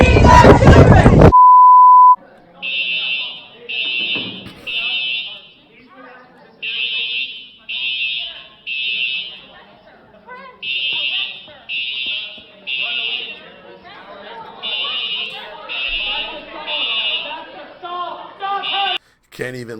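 A fire alarm sounds during a lecture, with loud piercing beeps in repeated triple bursts cycling throughout, while people talk and shout underneath.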